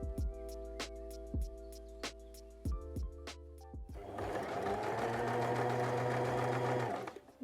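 A sewing machine stitches a jacket lining, first in a series of short, rhythmic bursts with pauses, then in one long, steady whirring run before stopping.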